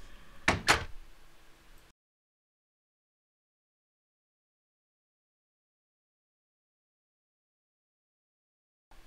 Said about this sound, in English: and the door will close